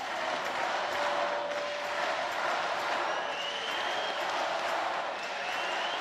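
Steady roar of a crowd at an NCAA men's volleyball match, Hawaii vs Pepperdine, during a serve, broad and continuous with a few faint whistles over it.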